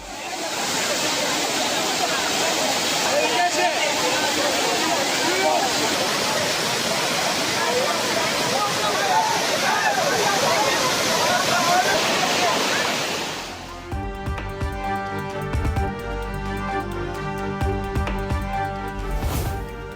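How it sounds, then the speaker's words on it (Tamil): Water gushes and roars down Kumbakkarai waterfall after heavy rain, a loud dense continuous rush for most of the stretch, then it cuts away to music. "கும்பக்கரை அருவியில் ஆர்ப்பரித்து கொட்டும் தண்ணீர்"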